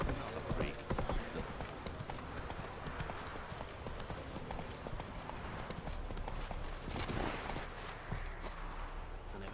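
Roach, the horse in The Witcher 3: Wild Hunt, gallops with rapid clip-clopping hooves amid dense game ambience, loud and continuous with quick irregular hoofbeats.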